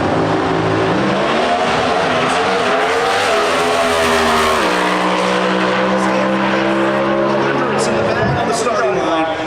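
Pro Stock drag race cars roar down the strip at the NHRA Brainerd Nationals in Brainerd, Minnesota, with loud, sustained engine noise that rises and shifts in pitch as commentators talk over it throughout.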